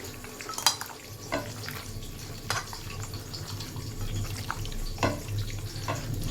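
Wet squelching and sloshing as marinade is mixed into food by hand, irregular soft squishes and a few sharp clicks over a low background rumble, close and with no talking.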